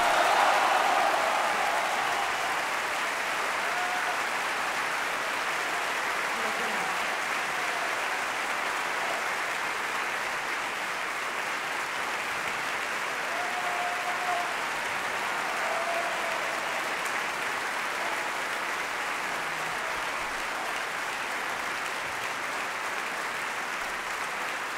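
An opera audience at the Liceu applauds after the premiere of Simon Boccanegra with Plácido Domingo, a long sustained wash of clapping from a large crowd that starts loudest and then holds steady, with no talk.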